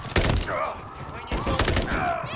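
Loud bursts of automatic gunfire in the first-person shooter Call of Duty: Modern Warfare III campaign, with two sharp volleys close up and rings and whines from the game mixed in.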